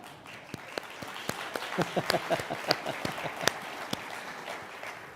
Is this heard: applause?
yes